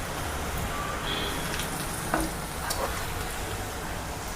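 Curry leaves drop into hot oil already frying onions and green chillies, giving a steady close sizzle with light crackles and pops throughout.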